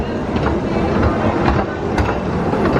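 The Pleasure Beach Express miniature train at Blackpool Pleasure Beach rumbles along its track, with a steady rolling drone and light rhythmic clicks from the wheels, heard from on board.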